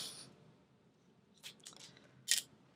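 Scissors snip through clear vinyl fabric while sewing a bag, a few crisp, close cutting crunches spaced apart, the last one loudest, with no talk.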